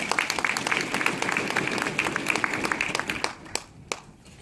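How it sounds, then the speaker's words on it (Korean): Audience applause at a Korean police briefing on drone search for missing persons, steady dense clapping for about three seconds, then thinning to a few scattered claps and fading. "큰 박수 한 번 더 부탁드리겠습니다"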